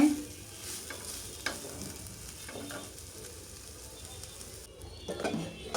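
Vegetable bhaji being stirred in a frying pan, a low steady sizzle with soft scraping strokes of a spatula throughout, fairly quiet and close, with no voices.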